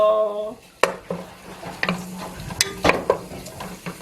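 Food stir-frying in a pan at home gives a soft sizzle punctuated by sharp clinks and scrapes of a utensil against the pan, with a brief hum at the start and no talking.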